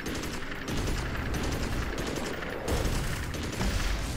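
Sustained automatic gunfire fills the whole stretch in the video game Magicka: loud, dense rapid bursts layered into a continuous fusillade, with no talking over it.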